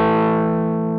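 A Mosky M-Shall guitar drive pedal renders a single sustained, distorted guitar chord, loud and close, ringing out and fading slightly over about a second.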